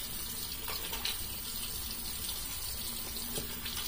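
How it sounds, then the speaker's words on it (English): Water running steadily from a bathroom tap while rinsing after a shave with a Merkur 41c or Yaqi open-comb safety razor, a constant close hiss and splash with small splashy variations. "So let's wash this up just a little bit"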